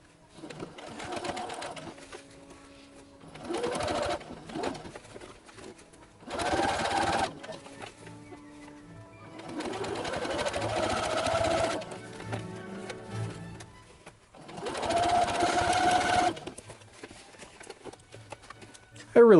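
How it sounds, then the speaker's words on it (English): A sewing machine stitches along a seam of an Imperial officer hat in short bursts of rapid mechanical whirring separated by pauses, close and clear, with a few quiet handling sounds between runs. "carefully, just stitch along the seam, about 1 millimeter away from this line"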